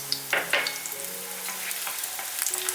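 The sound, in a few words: garlic slices and scallions stir-frying in hot oil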